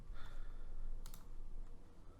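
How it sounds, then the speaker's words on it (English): Computer keyboard typing while entering text in a paint kit program, a few quiet clicks over a faint background hiss. "We will go ahead and type this in."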